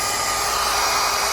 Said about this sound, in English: So I'm just using this regular ass hairdryer here.